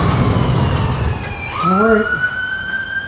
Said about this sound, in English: the sirens waited for us to be in the front buildings before they came by